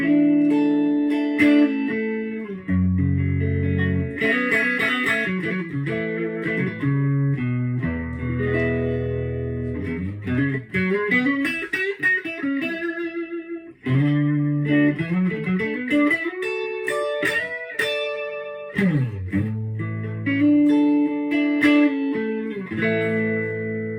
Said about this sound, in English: So neck pickup, this is what it sounds like.